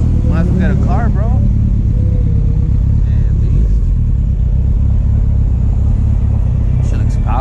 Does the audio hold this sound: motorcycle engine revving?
yes